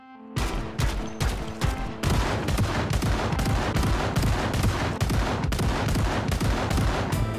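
Gunfire in the Project Zomboid survival game as sharks close in, a quick single shot and then rapid, sustained bursts of automatic fire, loud and close, rattling almost continuously with no talk.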